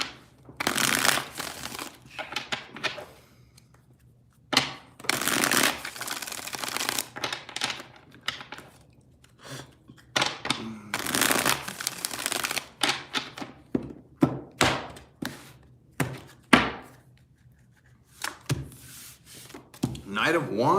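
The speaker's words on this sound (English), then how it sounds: "three shuffles here." Tarot cards are shuffled in repeated crisp riffling bursts with taps and thunks of the deck between them, close up, while a person talks quietly in between.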